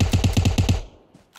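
A rapid burst of about eight gunshots from the mobile game PUBG Mobile cracks out loud and close, then stops abruptly, leaving a brief faint tail.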